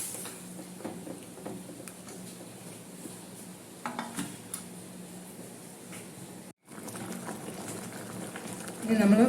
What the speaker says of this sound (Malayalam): ഇപ്പോൾ തിളയ്ക്കാൻ തുടങ്ങി.